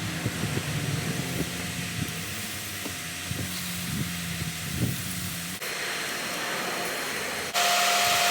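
A gutter-cleaning vacuum runs as a steady, loud whooshing drone with a faint low hum beneath, shifting abruptly in tone twice, toward a harsher, brighter roar near the end.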